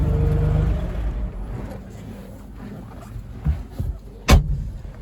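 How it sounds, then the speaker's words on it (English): A 1954 Chevrolet Corvette on the move, with a steady low engine drone and road rumble, a couple of soft thumps and one sharp knock near the end. "Take a ride with me in this spectacular 54 Corvette."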